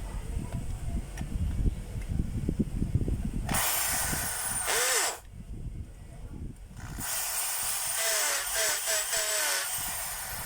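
A hammer drill is run as a test after its bearing housing was replaced. Two loud bursts of whining, hissing motor noise are separated by a brief drop, with rumbling handling noise before the first burst.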